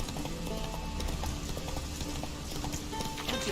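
Hoofbeats of Roach, the horse in The Witcher 3, a quiet rhythmic clip-clop of hooves under a busy game soundscape, with no talk.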